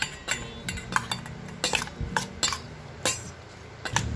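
Raw cauliflower is tossed with soy sauce, liquid seasoning and ground pepper in a bowl, with irregular clinks and scrapes of a utensil against the dish at close range. The bursts are quick and uneven, with no talking.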